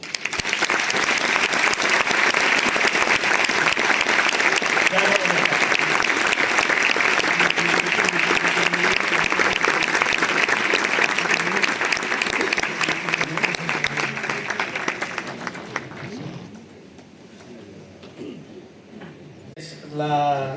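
An audience at a colloquium in Candeleda gives the volunteers a loud, sustained round of applause, thick clapping that rolls on for about fifteen seconds before dying away into quiet room noise, with a brief stir at the very end.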